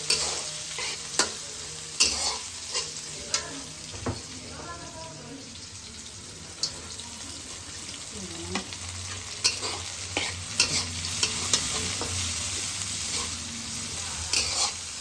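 Carrots and potatoes being stirred in a hot pan with noodles, giving a steady sizzle of frying punctuated by repeated sharp scrapes and knocks of a utensil, with a faint voice in the background at times.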